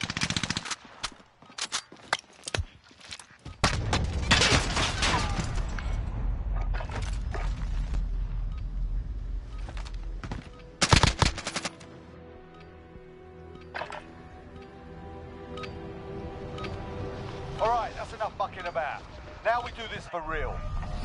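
Video game gunfire in a looting match: bursts of automatic weapon fire and single shots, loud and dense early on, thinning to sparse distant shots later, with players' voices heard over the fighting.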